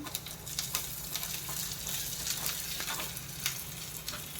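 Onions sizzle steadily in oil in a pan for pav bhaji, a dense even frying hiss with small crackles and pops throughout, close and moderately quiet with no voices.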